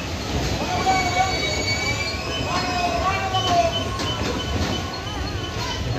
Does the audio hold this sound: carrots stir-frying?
no